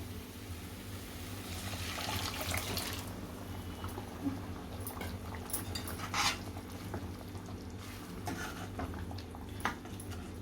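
Steady stirring of a drumstick and potato curry in a pot, with scraping and clinking of a spoon against the metal, a low background hum, and a few brief sharper knocks near the end.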